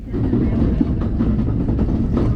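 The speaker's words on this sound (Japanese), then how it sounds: "橿原神宮前行きの普通列車に乗車。" A Kintetsu local train bound for Kashiharajingu-mae, heard from inside the car on a snowy January day: a steady low rumble of wheels and motor with faint rhythmic rail clatter, close and continuous.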